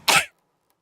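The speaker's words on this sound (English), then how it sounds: "I didn't mean to sneeze like that." A single sharp sneeze bursts out close and loud, lasting a fraction of a second before silence.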